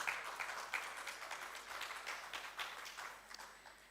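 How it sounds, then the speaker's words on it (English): Applause from a gala audience for the participating moot court teams, a fairly faint, diffuse spread of claps that slowly thins out. "A big round of applause for all the teams,"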